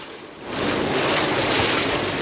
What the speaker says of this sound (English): This is probably the most wind we've had all trip.